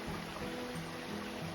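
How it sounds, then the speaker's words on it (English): A small brook runs down through woods beside a trail at sunrise, a faint, soft trickle and burble that continues evenly and quietly throughout. "this is a beautiful little brook running down through"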